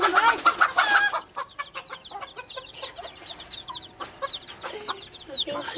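Chickens cluck and chicks peep in a busy, overlapping chorus, loud bursts at first, then steady high chirping throughout.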